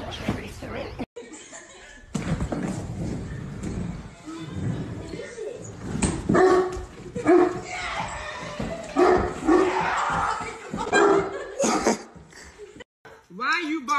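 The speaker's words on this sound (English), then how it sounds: "Why are you barking at your dog, Pain?" Bursts of dog-like barking and yips come in uneven spurts, mixed with laughter and voices close by.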